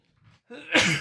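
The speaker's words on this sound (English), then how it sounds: "I'm going to sneeze." A single sneeze: a short breathy intake, then a loud explosive burst that trails off, close to the mic.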